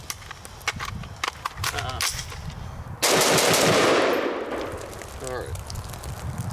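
A rifle fitted with a Midwest Industries MI-10F chassis fires one loud, close shot with a long echoing tail, preceded by light handling clicks and knocks.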